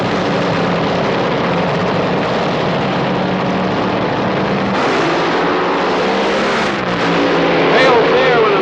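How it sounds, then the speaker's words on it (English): Top fuel dragsters race at the 1978 Gatornationals with a loud, continuous engine roar, while a track announcer talks over the noise throughout. "Dale Thier with a slight lead off the starting line"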